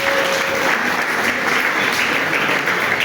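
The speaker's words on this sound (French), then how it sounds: "Nous pouvons applaudir pour les moniteurs." A church congregation at a Sunday service of the Evangelical Church of Cameroon applauds the monitors, with full, even clapping from many hands lasting throughout and no pause.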